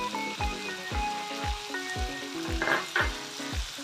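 Tomato and curry leaves fry in a pan for chutney, sizzling steadily while a spoon scrapes and stirs in regular strokes about every half second.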